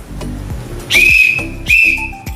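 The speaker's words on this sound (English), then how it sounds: "if my whistle sounds like this" Two sharp, shrill blasts from a tour guide's whistle at a Philippine World Heritage Site, the first longer, the second shorter, with low rumbling background noise between them.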